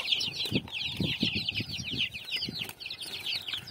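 Chickens and turkeys on a poultry farm cluck in a dense, busy chorus of overlapping short calls and chirps, close by, with occasional wing flaps and no talking.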